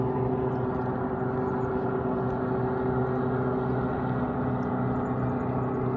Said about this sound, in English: It's one of those fan boats.